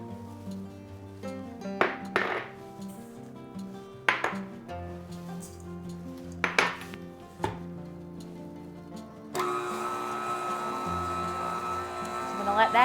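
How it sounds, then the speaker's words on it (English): Stand mixer creaming softened butter with two sugars for a Kentucky jam cake, a steady motor whir starting late and running continuously after several clinks of bowl and utensils, with talk earlier. "I like to use a stand-up mixer, but you can also use a handheld mixer."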